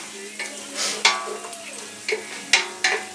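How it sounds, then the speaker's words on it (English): Fresh garlic simmers in a pot for chili while a spoon stirs it, with steady sizzling and several scraping strokes at irregular intervals, close and fairly loud. "whenever I got fresh garlic and it's simmering over here, I like to keep moving it a little bit"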